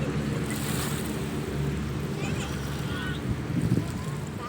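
Sea waves at Manila Bay wash in a steady, rough roar, with wind buffeting the microphone throughout and faint voices blending into the noise.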